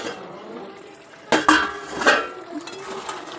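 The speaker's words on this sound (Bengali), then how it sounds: "তখন ঢাকা দেওয়ার পরে এবার ঢাকাটা আমি খুলবো।" A pot lid comes off during a masala chicken cook, giving a couple of sharp metallic clatters and clinks close by over the low simmer and hiss of meat and spices cooking in the pan.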